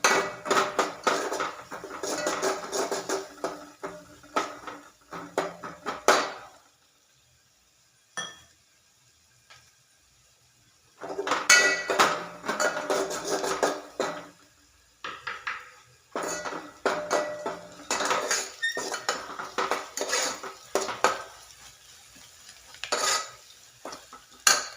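Spices for a Kannada-style oggarane tempering sizzle and fry in a pan while a spoon scrapes and clinks against the metal in bursts of stirring, with short quiet pauses between them.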